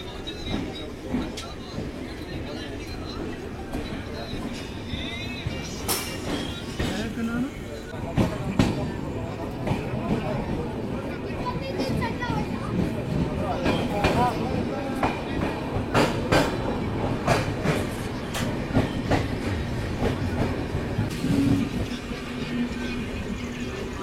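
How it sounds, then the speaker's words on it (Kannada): An Intercity Express train rolls along near Tumakuru railway station, heard from on board as a steady rumbling with clicking wheels and rattles, while people talk over it throughout. "ಇದು ನಮ್ಮ ಇಂಟರ್ಸಿಟಿ ಎಕ್ಸ್ಪ್ರೆಸ್ ಸದ್ಯಕ್ಕೆ ತಲುಪಿದೆ ತುಮಕೂರು ರೈಲ್ವೆ ಸ್ಟೇಷನ್ಗೆ"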